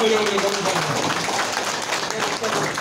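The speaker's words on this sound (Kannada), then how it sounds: "ಚಪ್ಪಾಳೆ" Crowd applause at a Kolar PLD bank election gathering, a dense steady clapping texture that carries on for the whole stretch, with a voice briefly audible near the start.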